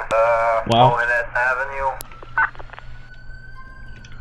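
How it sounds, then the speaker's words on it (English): An ambulance siren in the video game GTA IV wails loudly through the first two seconds, then falls away to a faint background hum, with a voice present. "I guess that's the ambulance"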